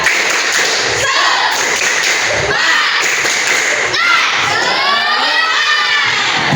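Class of children performing the rhythmic 'tepuk semangat' clapping chant, loud patterned claps mixed with shouted voices in unison, close and energetic throughout.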